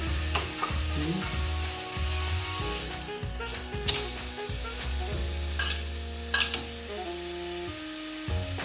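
Watermelon frying in a little oil in a pan, smoking and starting to burn, gives a steady sizzle with scraping stirs and a few sharp knocks, loud and close with no talk.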